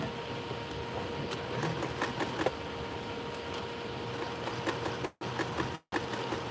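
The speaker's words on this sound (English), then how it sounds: "And we're going to sew the waistband on." Sewing machine stitching a denim waistband on reworked jeans, a steady mechanical whir with rapid needle ticking, quiet and continuous, with two brief cutouts near the end.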